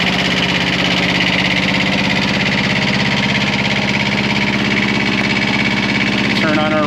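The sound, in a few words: CTE Traccess 230 spider lift engine idling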